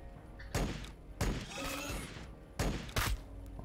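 Bursts of gunfire from a squad in Warhammer 40k: BattleSector, several sharp volleys spaced over a few seconds, loud and close.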